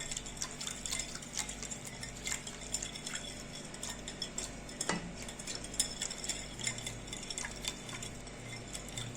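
Starch stirred into milk in a pot for sweet vermicelli pudding, faint repeated scraping and light clinks of a spoon against the pot over a low steady hum, with one sharper knock midway.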